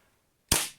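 One sharp, loud crack from an airsoft Colt 1911 firing a single shot up close, with a quick decaying tail after a moment of near silence.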